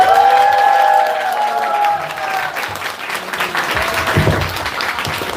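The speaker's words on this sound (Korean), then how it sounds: "박수 한번 부탁드리도록 하겠습니다" Audience applause with some cheering, loud and sustained throughout, greeting a guest speaker from an entertainment agency at a special lecture event in a packed hall.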